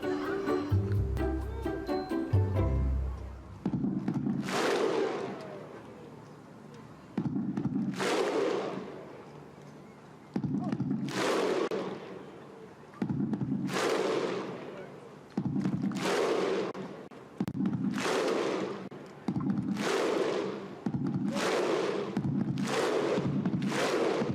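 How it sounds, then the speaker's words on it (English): Iceland football fans welcoming their national team home in Reykjavik after Euro 2016 perform the Viking clap: loud booming single claps from a huge crowd, each followed by a deep shout, repeating in a slow rhythm that speeds up toward the end. "a thunderous rendition of the Viking clap"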